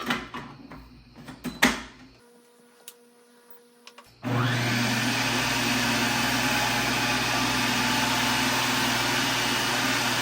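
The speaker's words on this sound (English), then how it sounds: "we're gonna do some carrots on a very fine shredding" A 600-watt COOKLEE electric food processor with its fine shredding disc runs on carrots: some clicks and handling first, then the motor starts abruptly with a loud, steady high whir that holds to the end.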